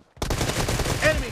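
Rapid automatic gunfire from PUBG Mobile in a team deathmatch rattles out in a quick burst of close, loud shots, with a brief electronic game tone near the end.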